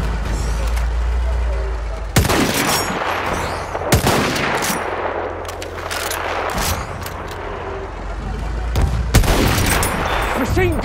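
Machine gun fire in the video game Battlefield 1, Operation Iron Walls on the Italian front: loud, sustained automatic bursts over heavy battlefield rumble, with sharp explosions cracking through at intervals.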